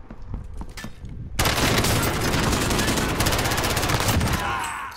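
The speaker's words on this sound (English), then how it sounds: "I just shot the shit out of him." Dense, rapid automatic gunfire erupts in a shooter video game after a quieter opening with a few scattered shots, then stays loud and close as a sustained burst for several seconds.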